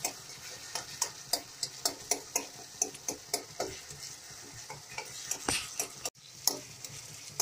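Tomatoes mashed in a hot pan for pav bhaji give a soft sizzle under a rhythmic series of close, clacking tool strikes against the pan, about two per second, with a brief pause near the end.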